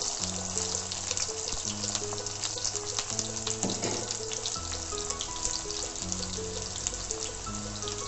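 Chopped onions sizzle steadily in hot oil in a pan already crackling with popped mustard seeds, a continuous close frying hiss with a faint musical tone droning underneath throughout.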